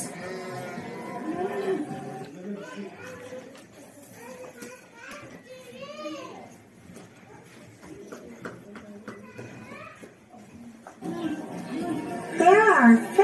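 Sheep bleat on a farm amid children's voices and playful chatter, with several wavering bleats in the middle and a louder burst near the end, alongside light clip-clop sounds.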